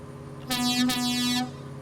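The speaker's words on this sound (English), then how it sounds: "there's the horn for anyone wondering" Air horn on a custom Mack R600 tanker rig in American Truck Simulator, one loud sustained blast of about a second with a brief dip midway, over steady engine hum.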